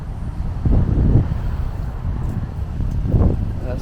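Wind blowing on a breezy, hazy morning while walking along Sandlake Road, a low rumbling buffet against the microphone that swells in two gusts, with faint traffic-like noise underneath.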